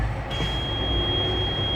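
A steady high-pitched low air pressure warning buzzer sounds continuously in a truck with air brakes over a low engine idle rumble, starting abruptly and holding one unbroken tone.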